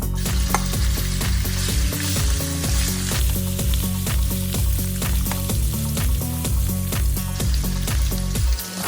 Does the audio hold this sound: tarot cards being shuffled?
no